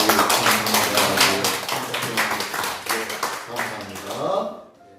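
Congregation clapping in a church worship service, a rhythmic burst of hand claps with a hum of voices underneath that fades out near the end.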